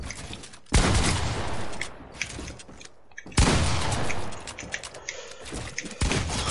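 Loud bursts of video game gunfire in two heavy volleys, each a sharp crack followed by dense sustained shooting with impacts and mechanical clatter, separated by a brief lull.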